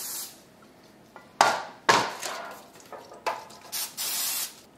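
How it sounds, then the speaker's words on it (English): Several short bursts of cooking spray hiss from an aerosol can onto baking dishes, close by, separated by brief pauses and faint clinks of dishes. "I'm going to just give the dishes that I have prepared a little bit of a spray."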